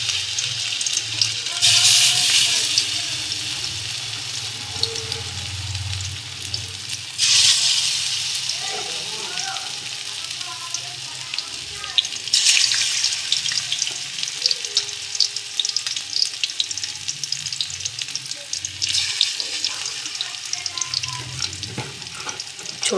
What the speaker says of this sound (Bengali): তেলটা খুব ভালো করে গরম হয়ে গেছে, এবারে একে একে দিয়ে দেবো সব।